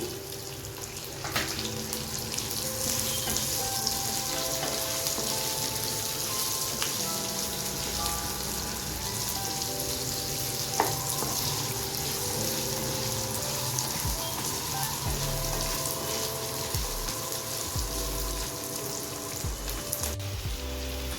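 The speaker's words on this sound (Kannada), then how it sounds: "ಈಗ 2 ದೊಡ್ಡ ಈರುಳ್ಳಿನ ಕಟ್ ಮಾಡಿ ಇಟ್ಕೊಂಡಿರೋದು ಸೇರಿಸ್ಕೊತಾ ಇದ್ದೀನಿ" Chopped onions go into a hot pan for chicken curry, giving a steady, even sizzle that continues close and unbroken for about twenty seconds.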